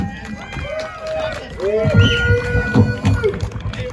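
A rally crowd at an Alberta Liberty March convoy event cheers, whistles and applauds to welcome a speaker, a dense, lively roar of voices and clapping that swells and stays loud throughout.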